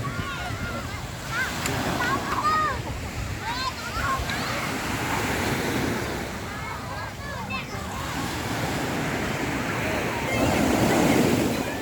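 Sea surf washing onto a beach at high tide at Bang Saen, Thailand, with steady rolling wave noise and light wind; someone talks over the surf throughout, and the waves swell louder near the end.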